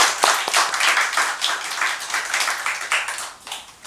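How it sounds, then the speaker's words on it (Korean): Church congregation clapping after a baptism service, a mix of separate hand claps that build into steady group applause lasting a few seconds, fairly close and lively, with no talking. "우리 박수 한번 할까요?"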